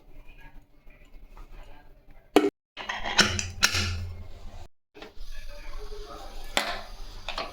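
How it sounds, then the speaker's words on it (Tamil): A lid goes onto a cooking pot of vegetable and lentil sambar, giving a few sharp metallic clanks and clinks amid quieter kitchen noise. "இப்போது இதை மூடி போட்டு மூடிடலாம்."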